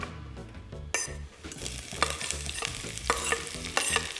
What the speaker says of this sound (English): we're gonna sweat it in some olive oil now